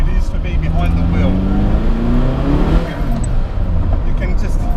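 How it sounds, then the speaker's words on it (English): A Ferrari F40 accelerates hard with its turbo engine roaring loudly up through the revs, rising pitch sweeping upward before a shift, dense and close with a rushing, screaming edge. "You can just hear those turbos scream."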